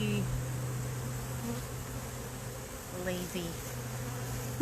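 Honey bees drone in a steady low buzz over an opened hive, faint and continuous at close range, with a few higher whines from individual bees passing.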